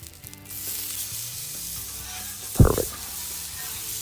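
A honey sriracha glazed salmon fillet sizzles steadily on a Blackstone griddle, with a short, louder burst of hissing as the fish is flipped partway through.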